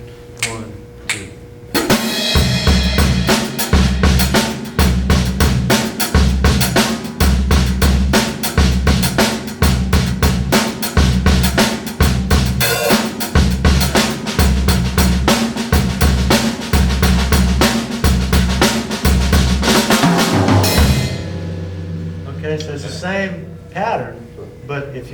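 A drum kit plays a syncopated partido alto groove with steady cymbal ticks and punchy low drum hits, running for about twenty seconds before fading into looser hits.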